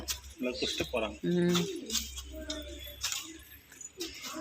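Pigeons coo softly in low, throaty bursts at a Shiva temple beside a water bowl set out for them, while a person talks over them close by.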